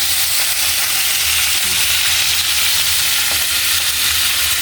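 Kangkong and alugbati vegetables sautéing in a hot pan give a loud, steady sizzle and hiss that runs unbroken throughout, with faint stirring clinks now and then and no talking.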